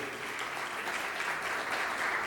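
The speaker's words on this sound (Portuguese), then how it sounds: "Uma salva de palmas para o Daniel, que é da RD." Audience applause at a retail and franchising business conference, a steady wash of clapping from many hands heard at a moderate distance without a break.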